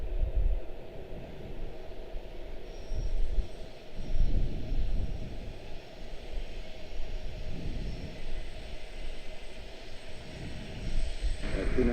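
An aircraft engine drones steadily at Washington Dulles International Airport, a low broadband rumble that swells and fades over twelve seconds at moderate distance.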